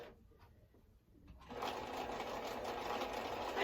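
Sewing machine for quilting, set up at a campground, starting after a quiet moment and then running steadily with a continuous whirring hum, close and fairly loud.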